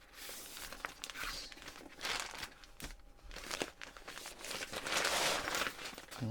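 The plastic packaging comes off a BlackWolf Classic Dome Tent 6 in quiet, close crinkling and rustling bursts that come and go irregularly, with brief pauses between handlings.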